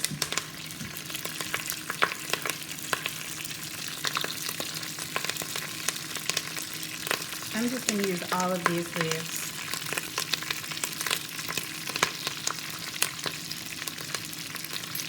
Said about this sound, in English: You want to get a visual of this frying up in the pan.